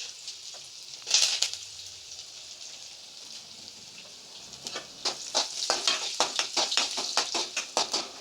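Carrot and urad dal frying in hot oil for a masala Maggi tempering, a steady close sizzle with crackling bursts that grow busier and more rapid toward the end, no talking.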